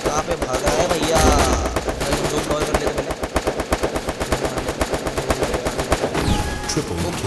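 Rapid automatic gunfire in a shooting video game, loud and continuous with dense repeated shots, easing near the end, while a voice talks over parts of it.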